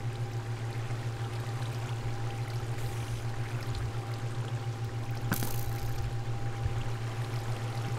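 Flowing water runs steadily in a Minecraft Skyblock game, a soft, continuous trickle and pour over a constant low hum, with a brief sharp click midway and no talking.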